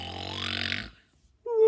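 A person reading a children's story aloud imitates a bear snoring with a long, rumbling drawn-out breath, then a pause, and then starts speaking again.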